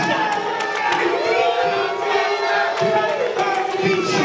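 A wrestling crowd reacts loudly and continuously, a dense mass of shouting and cheering voices that stays steady throughout with no pauses.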